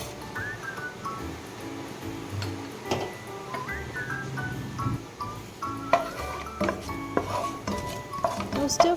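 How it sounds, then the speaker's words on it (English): Urad dal and mustard seeds stir-fried in hot gingelly oil in a pan: a spoon clatters and scrapes irregularly against the metal, with the clinks growing busier toward the end over a low steady background. "now stir fry it for another 2 minutes till the urad dal gets nice and golden brown"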